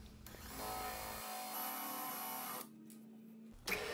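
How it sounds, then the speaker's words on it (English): A Forstner bit bores a recess for a quarter-inch bolt head into a wooden crib leg, a steady close whirring grind that holds for a couple of seconds and then drops away. "I first used a Forstner bit"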